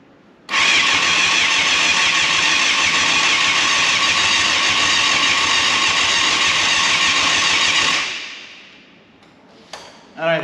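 A 1989 Yamaha FZR600 motorcycle on four-year-old fuel cranks without catching, the starter whirring loudly and steadily for about seven seconds before cutting off, with a few small clunks afterward.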